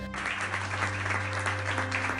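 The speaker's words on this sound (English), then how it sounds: "The audience erupts into thunderous applause." Applause from an audience at an award ceremony: a dense, steady wash of clapping that runs unbroken through the whole stretch, fairly even in loudness, with a faint low hum underneath.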